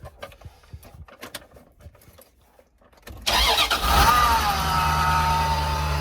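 Faint clicks and rustling, then a 1996 Dodge van engine cranks and catches, revving briefly before settling into a steady, close idle.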